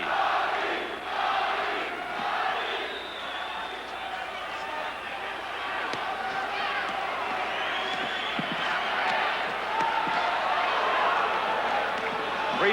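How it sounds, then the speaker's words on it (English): A boxing arena crowd roars and chants a fighter's name at a round's halfway point, a broad, sustained wall of voices heard at a distance beneath a commentator's talk. "The crowd is chanting Bobby"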